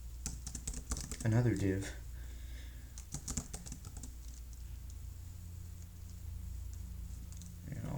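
A computer keyboard typed on while HTML code is written, with rapid close clicking bursts at the start and more keystrokes later under a steady hum. Someone speaks briefly.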